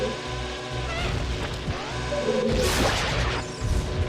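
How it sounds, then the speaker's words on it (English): In Zelda: Ocarina of Time, a bomb blows up a rock with a sharp, loud crashing burst partway through, surrounded by busy game effects and music. "And by blowing this rock up"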